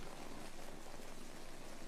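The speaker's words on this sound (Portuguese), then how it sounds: "chove a cântaros durante um mês" Heavy rain pours down in Hawaii in a dense, steady hiss of drops striking surfaces, continuous and fairly loud with no voices.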